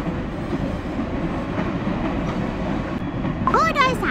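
Train rolling along rails in the video game Cookie Run Kingdom, a steady continuous rumble and rattle throughout, with a brief burst of higher chiming or whistling tones near the end.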